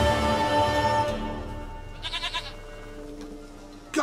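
In a video game, a single wavering goat bleat rises briefly in the middle, following a fading stretch of sustained, tonal background sound.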